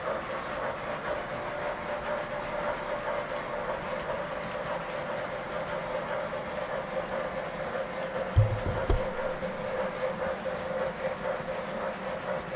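Model trains run along track laid on roadbed, a steady low rumble and hum rolling on continuously with a brief louder knock partway through.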